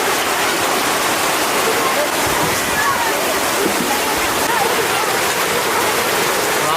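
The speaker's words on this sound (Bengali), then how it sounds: "বাবারে কি বৃষ্টি" Heavy rain pours down in a loud, dense, unbroken hiss that fills the whole scene without pause.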